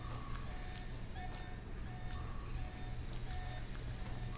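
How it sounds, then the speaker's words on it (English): An alarm in Alpha Protocol keeps sounding as a steady series of repeated short electronic beeps, moderately faint against a constant low background hum. "There's an alarm going off."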